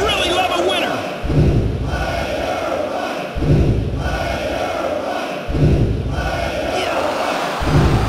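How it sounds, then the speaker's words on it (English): Wrestling arena audience in WWF Attitude on PS1, a steady loud roar of cheering punctuated by regular body-slam thumps about every two seconds, with commentary voices mixed underneath. "This crowd is electric."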